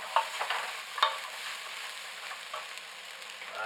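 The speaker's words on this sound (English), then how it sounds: "the chop up celery. Stir it together." Chopped celery stirred in a cooking pot, faint scraping and light sizzle with a couple of sharp utensil clicks against the pot, fairly quiet and close, no voices.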